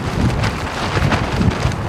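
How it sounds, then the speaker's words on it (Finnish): Strong wilderness wind buffets a tent, a loud roaring rush with repeated gusty flaps and rattles pressing in close throughout. "Ei toi tuuli kyllä näytä mitään laantumismerkkejä, että pikemminkin päinvastoin vissiin."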